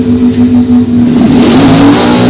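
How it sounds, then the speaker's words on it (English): A drag racing car at a bracket racing event launches hard off the line at close range. The engine roars loud and sustained with a rising, revving pitch. "Wheels up launcher for Mark."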